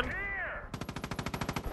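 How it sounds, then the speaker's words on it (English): Rapid automatic machine-gun fire from a helicopter in Far Cry 5, about a dozen evenly spaced loud bursts following a brief whining engine or rotor tone. "I wonder if I should can take these guys down with my rockets and machine guns."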